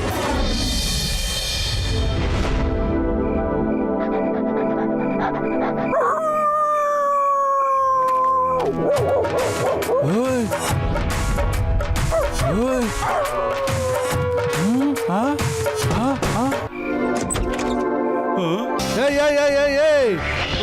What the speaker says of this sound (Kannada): ಈ ನಾಯಿ ಮರಿ ಯಾರ್ದು ಇದು?